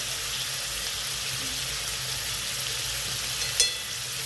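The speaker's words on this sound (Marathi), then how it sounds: "आणि कांदा पण होतो फ्राय" Onion and chicken frying in a pan with turmeric added, a steady low sizzle running throughout with a single sharp clink near the end.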